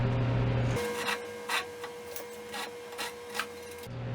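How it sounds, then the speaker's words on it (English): A handsaw cuts a wooden plug flush with a bench seat, with soft rasping strokes pulsing in an even rhythm under a steady background hum, fairly quiet and close. "Then I can saw it off."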